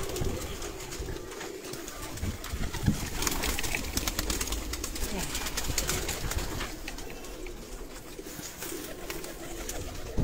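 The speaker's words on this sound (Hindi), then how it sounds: "हाँ ये लालो कबूतर।" Laalo pigeons coo repeatedly in low, throaty calls amid a busy loft backdrop, the murmuring steady and fairly close with no talking.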